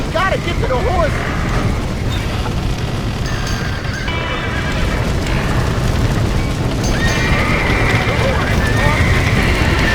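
A horse neighs in short whinnies amid Red Dead Redemption gameplay, mixed with clip-clopping hooves, crashes and rumbling action while characters shout throughout.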